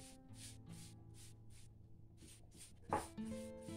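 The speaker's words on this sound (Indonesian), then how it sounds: "air yang kita semprotkan agar bunga-bunga yang telah kita rangkai terlihat segar" A hand sprayer mists water over a freshly made round flower arrangement in a series of short, soft hissing puffs at a steady rhythm, faint and close, over quiet background music.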